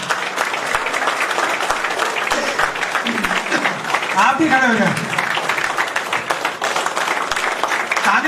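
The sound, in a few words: audience applause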